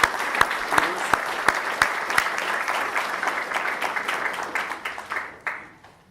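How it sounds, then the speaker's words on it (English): An indoor audience at a seminar gives a round of applause, with sharp individual claps standing out at first, then dense, even clapping that fades away toward the end. "So can you just give a round of applause to all these seminar leaders?"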